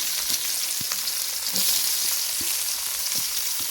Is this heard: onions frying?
yes